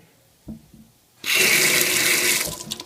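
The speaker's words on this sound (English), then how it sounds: "if you close it and I turn it on, water will flow through the hose" Water from a sink faucet rushes through an aquarium hose, starting abruptly after a couple of soft knocks and then flowing loud, steady and close for over a second before easing slightly.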